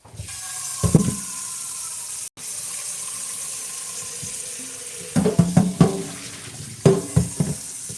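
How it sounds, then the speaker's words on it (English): Water runs from a kitchen tap into a cooking pot. The stream is steady and close, with a brief break partway through, then clanks and knocks of handling as the pot fills. "I'm going to go ahead and fill this up with water"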